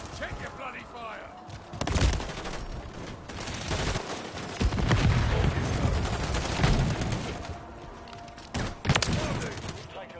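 Gunfire in Call of Duty Modern Warfare 3, with repeated sharp bursts and heavy blasts around two, five and nine seconds over a dense battle din, and voices talking throughout.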